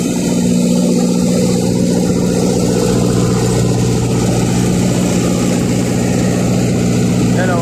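A noisy reefer truck engine at a plant in Saudi Arabia drones in a loud, constant steady hum with low harmonic tones, unbroken for the whole stretch and close by.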